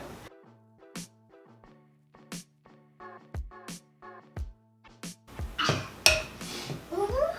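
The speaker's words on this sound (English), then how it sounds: "mommy is trying to stir with the spoon" A metal spoon clinks and scrapes against a bowl while stirring cookie dough, in uneven bursts of taps with pauses, followed by a louder clatter near the end.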